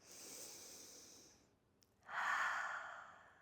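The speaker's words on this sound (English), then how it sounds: "Big breath in together. Exhale, let it go." Two long breaths during a chair yoga session, a soft airy inhale followed after a short pause by a louder, fuller exhale, close and alone with no talking.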